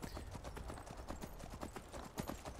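Hooves of a horse ridden across open ground in Skyrim, a quiet, rapid, steady clip-clop rhythm that continues without a break and with no talking.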